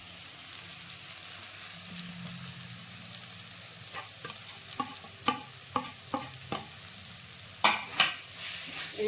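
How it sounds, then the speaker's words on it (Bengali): Chicken and taro fry in a pan with Kashmiri chilli, cumin, coriander, turmeric and other spice powders, a low sizzle under sharp, irregular spoon scrapes that grow busier toward the end, with no talking. "মশলাটা দিয়েও আমি ভালো করে কষিয়ে নেব"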